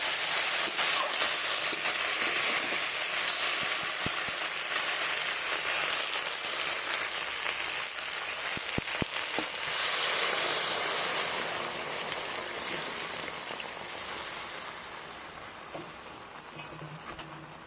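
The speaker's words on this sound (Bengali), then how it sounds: "জল দিয়ে দিলাম পরিমাণ মতো।" Water poured into a hot pan of rohu fish being grilled bursts into a loud rushing hiss and sizzle, with a few clicks and a surge midway, then slowly settles and fades.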